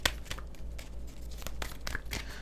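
Tarot cards riffled and shuffled by hand during a reading, giving a series of quiet papery slaps and crinkling rustles spread unevenly across a couple of seconds, close to the microphone.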